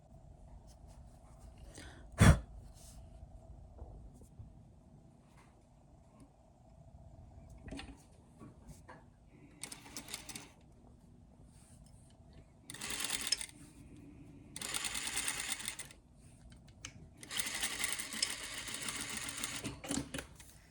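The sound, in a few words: sewing machine stitching a bodysuit leg band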